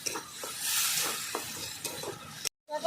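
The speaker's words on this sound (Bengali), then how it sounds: "এভাবে কষিয়ে নেব ভালো করে 2 থেকে 3 মিনিট" Spice paste with chilli powder and a splash of water sautéed in a pan for papaya chicken curry, a soft sizzle with intermittent spoon scrapes, close, then cutting to brief silence near the end.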